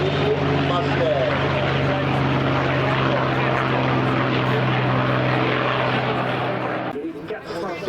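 A P-51 Mustang propeller fighter lifts off at the Aero Gatineau Ottawa 2025 airshow, its engine a loud, continuous roar that eases off slightly near the end.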